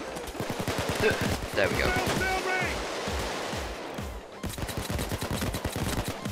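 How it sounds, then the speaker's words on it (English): Pistol fire during a bank heist in Payday 2, a rapid string of sharp shots over game noise and background clamor, with someone talking over part of it. "It would appear that this pistol isn't doing any damage to those guys."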